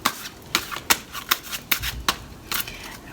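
Tarot cards being shuffled up close, a string of crisp riffling snaps in an uneven rhythm, about eight quick bursts in a few seconds with no talk over them.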